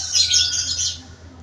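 Many birds chirp and tweet in dense overlapping calls in a mountain setting in Northern Samar, loud and close, with a steady low hum beneath and no talking.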